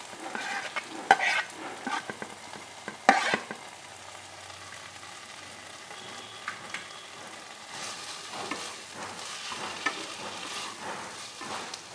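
A poppy seed mixture stir-fried for a Malabar spinach curry, with a soft continuous sizzle broken by occasional louder spoon scrapes and stirring strokes, close and quiet, with no talk.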